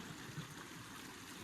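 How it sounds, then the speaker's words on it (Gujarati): Floodwater after two days of steady rain pours into a village pond, a steady, fairly faint rush of flowing water with no voices. "જબરજસ્ત પાણી આવે"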